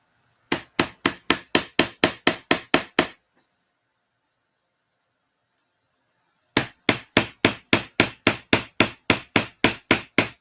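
Rapid, evenly spaced hammer strikes ring out loud and close in two long runs of about ten blows each, separated by a few seconds of near silence with a couple of faint knocks.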